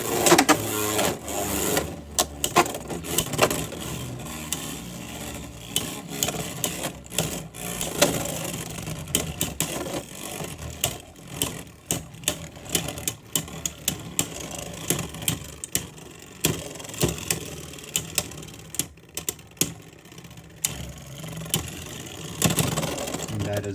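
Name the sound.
Beyblade X spinning tops launched and battling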